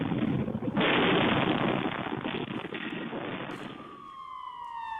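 In Israel near the Gaza border, an air-raid siren winds down in a falling wail near the end, after a stretch of loud broadband roaring noise; no one speaks.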